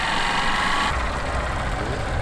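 A big, lively motorcycle engine pulls away gently under light throttle, its steady, close drone running throughout with a slight shift in tone partway through.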